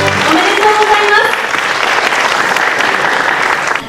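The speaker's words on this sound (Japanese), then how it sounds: "今一度大きな拍手をお願いいたします" Audience at the 2016 Miss Nebuta contest in Japan applauding the grand prix winner, a dense, loud, continuous wash of clapping, with a voice speaking over the opening moments.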